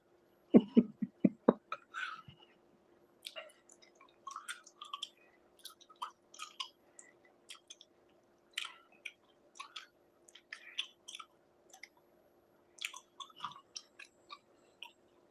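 Bubblegum is chewed close to the microphone, soft wet smacks and clicks in an irregular rhythm against a quiet low hum.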